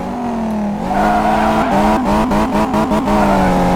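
A modified RTR Mustang engine in Car Mechanic Simulator 2018 revs hard and launches down a drag strip, climbing through rapid gear shifts with a strained whine, loud and close.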